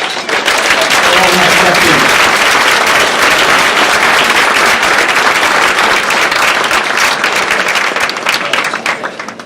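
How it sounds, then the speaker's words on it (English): Audience at a 2016 hall of fame awards dinner breaks into sustained applause, loud and dense for about nine seconds with a few scattered voices in the mix before it thins slightly at the end. "Let's give a nice round of applause."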